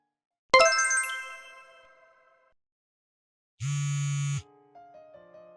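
A phone alert sounds: a bright metallic chime struck once and ringing out, then after a pause a loud buzzing electronic tone, followed by a short rising sequence of soft beeps, all in an otherwise silent room.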